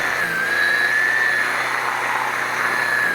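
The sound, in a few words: Ryobi Expand-it 40V weed eater cutting weeds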